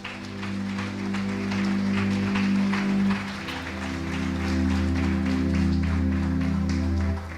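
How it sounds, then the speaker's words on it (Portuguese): A church congregation applauds Jesus Christ during an evening worship service, continuous crowd clapping layered over sustained organ-like musical tones and a steady low drone. "Só quem crê diga glória a Deus e aplauda Jesus Cristo nesta noite."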